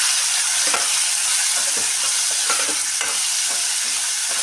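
Onions cook in hot oil with salt and turmeric, giving a steady close sizzle and crackle broken by the scrape and clatter of stirring every second or so.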